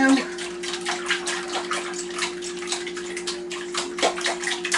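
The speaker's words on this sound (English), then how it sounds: "We are going to whisk this up." Eggs, egg whites, water, basil, salt and pepper are whisked in a bowl for a veggie frittata, a quick liquid swishing and clinking beat that runs the whole time with a faint steady hum underneath.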